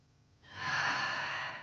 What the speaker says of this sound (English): And exhale deeply.